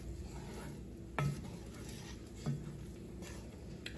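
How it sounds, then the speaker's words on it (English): Impossible sausage being sautéed in a pan for breakfast burritos, giving a steady low sizzle with a few stirring scrapes and clinks of a utensil against the pan, close and alone. "So I'm just sauteing"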